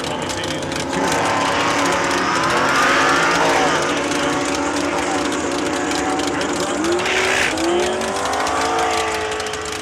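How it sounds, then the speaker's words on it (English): A Ford Mustang and a Ford F-150 pickup drag race side by side at Saskatchewan International Raceway, loud engines roaring steadily through the run with rising whine and gear changes, a commentator's voice faintly under the noise. "Ford versus Ford, Mustang versus F-150"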